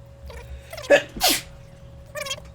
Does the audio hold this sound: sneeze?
yes